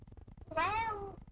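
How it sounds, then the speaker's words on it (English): A pet cat lets out one clear, drawn-out meow close by on a desk, rising and falling in pitch, over faint background clicking. "Cat has arrived on my desk."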